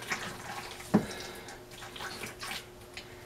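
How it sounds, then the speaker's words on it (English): A kitchen tap runs into a sink as hands are rinsed after handling raw burger meat, a soft steady flow with a brief splash near the start. "you gotta rinse those hands because you've got a bunch of meat on them"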